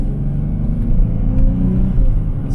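A blood-red Dodge Charger sedan is driven hard down the road. Its engine drones loud and steady close by, with a slight rise in pitch as it pulls forward.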